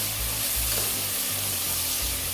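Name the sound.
chicken liver browning and sizzling in a pan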